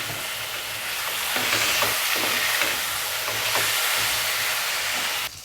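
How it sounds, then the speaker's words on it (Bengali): Potatoes sautéing in a pan with ground coriander and cumin while making Bengali soyabean kofta: a steady, close sizzle and fry runs throughout, with soft stirring scrapes layered on top. "আমি আলুটা এখন এখানে দিয়ে দেব কষাতে কষাতে আমার আর্ধেক সিদ্ধ হয়ে যায়"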